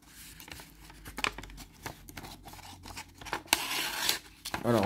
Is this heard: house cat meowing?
no